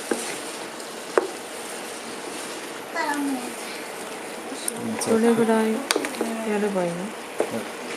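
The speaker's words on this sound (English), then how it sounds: "Now I put a big fire and stir a lot as we slowly cook the vegetables" Vegetables for a vegetable lasagne cook over a big, high flame as they are stirred: steady sizzling and frying with occasional clinks of utensils, under people talking.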